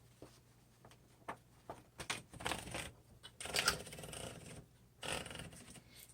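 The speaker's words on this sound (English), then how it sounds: "so let's go ahead and do some typing" A 1970s Smith Corona Electra 220 electric typewriter types in scattered bursts of sharp key strikes, some quick clusters and brief pauses between them, close and fairly quiet in a still room.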